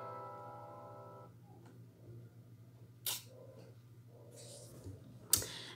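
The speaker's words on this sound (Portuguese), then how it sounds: "E ficou o barulhinho das teclas." Light, sparse clicks of computer keyboard keys, a few sharp taps standing out over a steady low hum and faint fading tones.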